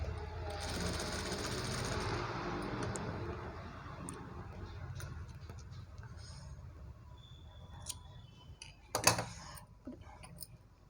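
A sewing machine runs steadily while top-stitching a blouse, a continuous close whirring that gradually softens, then stops and is followed by a few sharp clicks and knocks near the end.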